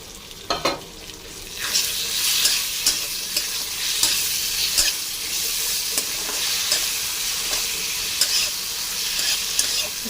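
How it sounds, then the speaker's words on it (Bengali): Green chillies and tomato fry in hot oil in a pan for a katla fish curry, a bright steady sizzle with bursts of spitting and repeated stirring scrapes, close and fairly loud with no talk. "হালকা ভেজে নেব। এবার দিয়ে দেবো ঝালের জন্য 4টে কাঁচা লঙ্কা। এবার দিয়ে দেবো টমেটো।"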